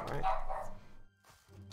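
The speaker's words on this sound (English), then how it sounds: "You may hear the dog barking in the background." A dog barks in the background of a home stream, a short burst of a couple of quick barks at the start, mixed with a voice talking over and after it.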